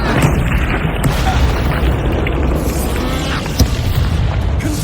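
Bombarda spell explosion during a fight in the video game Hogwarts Legacy, heard as dense, loud booming rumble with bursts and crackles, a sharp pop near the end, under busy combat noise.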